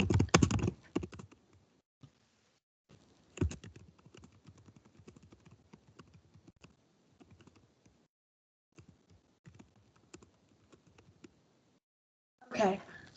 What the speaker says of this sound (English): I have to type something.